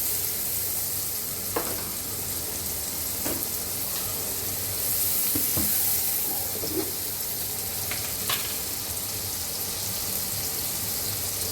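Onions frying in oil with salt in a Bengali home kitchen, a steady dense sizzle with occasional stirring scrapes, close and continuous, no voices.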